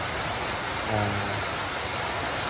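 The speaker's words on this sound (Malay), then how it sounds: "Tahu-tahu hujan lebat." Heavy rain pours steadily on a fishing raft on water at Bintan, a dense, loud hiss with no breaks throughout.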